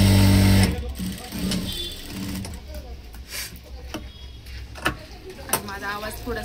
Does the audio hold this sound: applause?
no